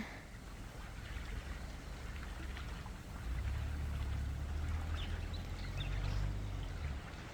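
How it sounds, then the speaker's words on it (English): Soft, continuous water sounds lap close by against a reedy lake shore in a quiet outdoor backdrop, with a low rumble growing slightly louder midway through. "You can hear the gentle laps of the water on my right hand side."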